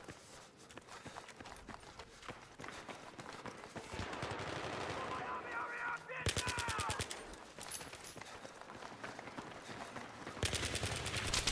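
Rapid automatic gunfire in Battlefield 4 crackles in dense bursts, broken by footsteps and gameplay noise. A player mutters briefly over the shooting.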